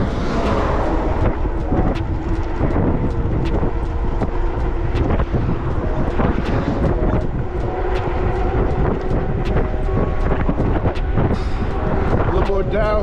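Repaired electric bike at full throttle, 48 volts, on a store run: steady loud rush of wind buffeting the microphone with rumbling road noise throughout, no clear motor whine standing out.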